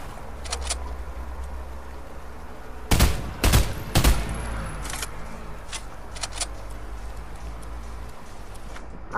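Gunfire in a video game cracks in a quick burst of several sharp shots around the middle. A couple of fainter isolated shots come before and after over low background noise.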